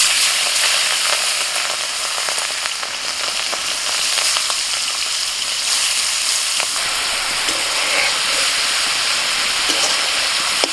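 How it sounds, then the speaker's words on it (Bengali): Shrimp frying in mustard oil in a wok, a dense continuous crackling sizzle with sharp pops and spatters, close and fairly loud throughout with no talking. "চিংড়ি মাছ ভেজে নেব।"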